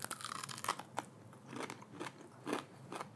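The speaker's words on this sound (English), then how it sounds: "you guys can hear that, right? It's like the crunch factor is amazing." Crisp crunches from biting into and chewing Thai-style fried chicken, several close, quiet crackly bites and chews spread over a few seconds with no talking.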